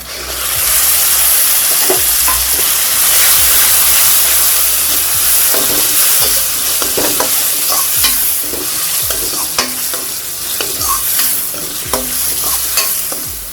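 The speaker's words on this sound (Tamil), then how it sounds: "நம்ம இப்போது மேஷ் பண்ண தக்காளி சேர்த்துடலாம்." Mashed tomato added to frying onions in a pan for black chana radish kara kuzhambu, a loud close hissing sizzle with repeated scraping stirs throughout, no voices.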